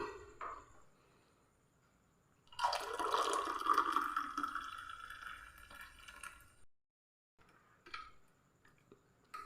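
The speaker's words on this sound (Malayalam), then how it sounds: "നമ്മുടെ ഈ ഒരു കപ്പിന് അളവായിട്ടുള്ള ചായ നമ്മൾ ഇതിലേക്ക് അങ്ങ് അരിച്ചങ്ങ് ഒഴിച്ചു കൊടുക്കാം" Milk tea strained and poured into a cup, a soft pouring stream lasting a few seconds after an initial clink, with quiet handling sounds before and after.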